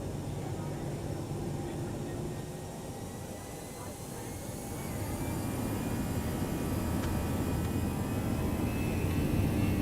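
Airbus A319 jet engines spool up for a flex takeoff in X-Plane 11, a steady broad roar with whining tones that grows louder and rises in pitch.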